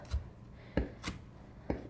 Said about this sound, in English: you're actually chopping through them